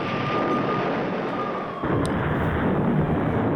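Thermite bomb blasts from a Russian attack on Ukraine form a loud, continuous rumbling roar, with a brief sharp crack partway through and the din swelling again afterward.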